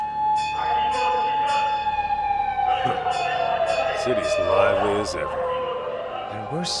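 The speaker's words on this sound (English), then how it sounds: "There were certainly plenty of sirens." City sirens in Lost Judgment wail and slowly fall in pitch across a busy game street, loud and continuous, with talking and other city noise layered underneath.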